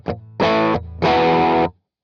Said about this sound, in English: That almost sounds like a cocked wah kind of thing